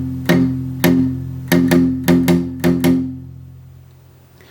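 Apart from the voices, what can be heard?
electric guitar downstroke riff pattern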